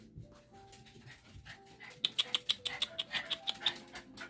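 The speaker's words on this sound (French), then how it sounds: "Là, c'est mes chiens, t'entends, ils capotent" Several dogs bark in a quick, excited burst of about a dozen sharp yips, moderately close, with a few softer whines before the barking starts.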